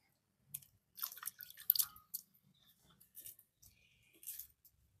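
Drumsticks are rinsed in water, with faint close splashes, drips and wet handling noises in short irregular bursts separated by near silence; no speech.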